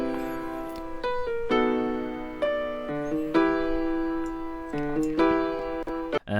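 Piano plays a chord progression with small melodic add-ins: sustained chords change about every second, with light higher notes placed between them, played solo and fairly soft.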